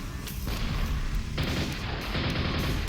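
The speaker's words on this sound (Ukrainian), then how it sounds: "Там ще хтось стріляє, так?" Continuous rumbling gunfire and booms from the game Quake, dense and sustained, with the mix of shots shifting partway through.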